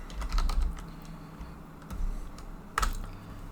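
Typing on a computer keyboard while entering a name in a game-development editor: bursts of close, quick key clicks with short pauses between them, with no talking.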